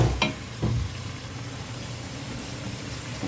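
Samgyupsal pork belly fries in a pan with a continuous sizzle, broken early by two sharp spattering pops, close and fairly loud.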